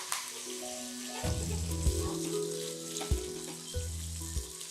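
Curry leaves hit hot tempering oil already holding asafoetida and dried red chilies, giving a bright, crackling sizzle close by that swells and fades in short surges, with low tonal hums underneath and no speech.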